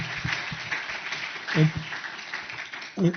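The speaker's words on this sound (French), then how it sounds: "Félicitations, on peut l'applaudir." Crowd applause fills a room during a Provence-Africa innovation award ceremony, a soft, continuous patter of clapping from many hands, with a couple of brief voices cutting in over it.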